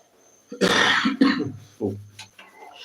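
A person coughs several times close by in a quick, harsh burst, with a rough throat-clearing sound in between against a quiet background.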